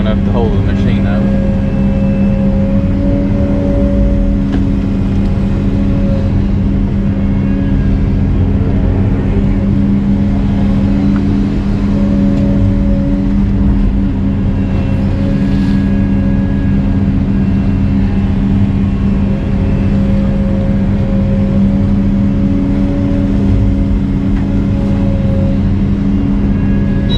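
Steady diesel engine of a pond-dredging machine idling and churning at a golf course pond, a continuous loud low hum with faint tonal whine throughout, close by and unbroken.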